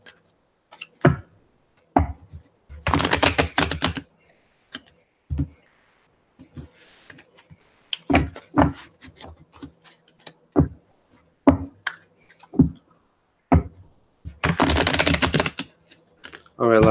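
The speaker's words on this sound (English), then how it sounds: "Now let's do one more shuffle." Tarot cards being shuffled by hand, coming as short crisp riffling bursts and taps separated by quiet gaps, close and fairly loud, with two longer fluttering shuffles standing out.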